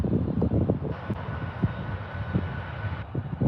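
A jet airliner's engines roar at Birmingham Airport, a loud, steady rumble and whine heard from nearby that holds for several seconds, with no voices.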